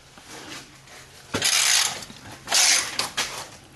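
A ratchet tightening a bolt on the exhaust of a 2015 Jeep Wrangler, giving bursts of rapid clicking in two or three short runs over quiet background noise.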